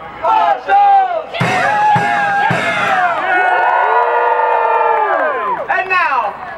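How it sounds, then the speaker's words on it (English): Crowd at a Renaissance festival combat show cheering and whooping for the marshals, with loud sustained shouts and yells, a few sharp slaps or claps early on, close and energetic throughout. "A special round of applause for our"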